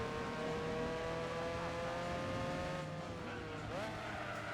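Race cars in a 24-hour race in Gran Turismo 4 on PS2, a constant loud engine drone with whining tones that climb and shift through gear changes, several cars overlapping throughout.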